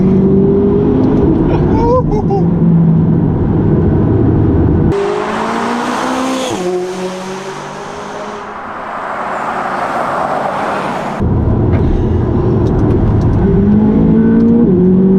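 McLaren 570GT accelerating hard through the gears, a loud close engine roar climbing in pitch with sharp drops at each upshift, quieter cabin stretch in the middle before the howl returns.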